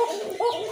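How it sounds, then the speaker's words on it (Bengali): Caged pigeons at a breeder's farm give a short, close, fairly loud throaty coo with a wavering tone, heard alone. "ফিরোজ ভাই দুইটাই কিন্তু ডাকে কবুতর।"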